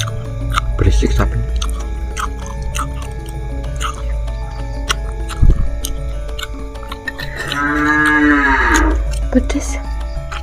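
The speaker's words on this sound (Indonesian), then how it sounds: "Berisik sapi." A cow moos loudly with a long drawn-out call near the end, while people talk and clatter around it close by.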